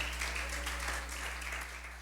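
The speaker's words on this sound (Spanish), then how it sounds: "Denle un aplauso fuerte al Señor" Church congregation applauding during a Spanish-language worship service, a soft, steady wash of clapping that sounds fairly distant and diffuse, with a low hum beneath it throughout.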